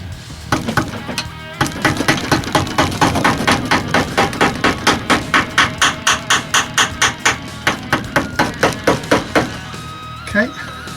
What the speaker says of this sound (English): So once again, a couple of taps with the screwdriver.